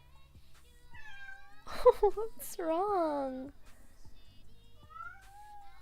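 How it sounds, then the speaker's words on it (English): A kitten meows twice in close succession, near and fairly clear, with a person speaking softly to it in a quiet room. "Kitten!"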